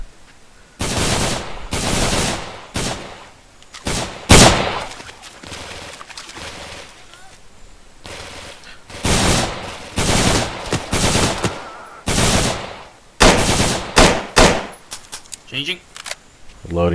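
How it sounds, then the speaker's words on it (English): Bursts of automatic machine-gun fire in a Vietnam-era MAC-V SOG combat game, loud rapid rattling volleys repeating in clusters with brief pauses between them, alone without talk. "Machine gun."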